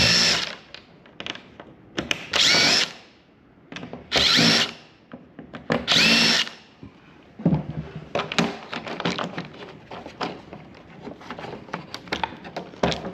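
A power drill unscrews parts of a Ryobi table saw during a teardown, with several loud bursts of whirring a second or so each, separated by pauses, followed by clattering handling of parts.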